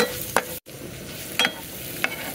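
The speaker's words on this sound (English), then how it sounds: "so I'm frying just onion." Onions sizzle gently in a hot pan, with a few brief scraping stirs breaking the steady crackle.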